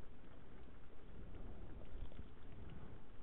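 At night, steady rain falls outdoors as a faint, even hiss of drops hitting surfaces, constant and unbroken, with no voices.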